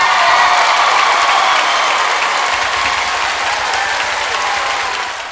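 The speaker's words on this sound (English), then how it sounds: "45 seconds of roaring applause before he could continue" Theatre audience on Broadway breaking into roaring applause: loud, dense clapping throughout the stretch, easing slightly toward the end.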